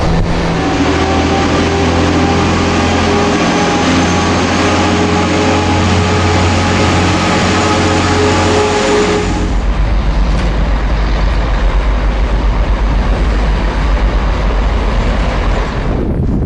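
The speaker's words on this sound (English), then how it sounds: "Here's a clip of the 185 and the 158 DMU." British Rail Class 185 and Class 158 diesel multiple units running loud and close, with a sustained engine drone and low throb that shifts partway through into a broader rumble of rolling wheels and rail noise.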